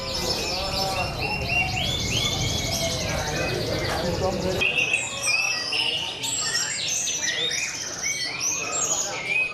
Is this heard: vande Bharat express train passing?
no